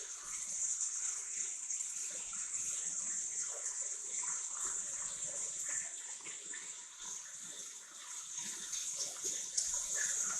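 Juice pours over a pork steak with turmeric to smother it, a steady hissing, splashing stream of liquid that runs continuously at moderate volume.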